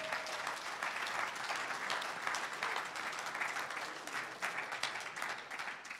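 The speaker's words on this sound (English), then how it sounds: "Give the Lord a round of applause today." A church congregation at Tabernacle of Praise applauds: sustained, dense clapping from many people, moderately distant and a little faint, holding steady for several seconds with a few sharper claps standing out.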